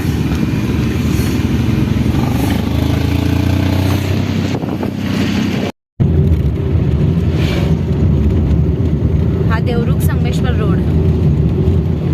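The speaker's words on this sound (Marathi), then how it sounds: "गाडी पण स्टार्ट केली आहे" A car's engine runs and it drives along on a road trip, a steady loud low drone heard from inside, with people talking over it and a brief dropout midway.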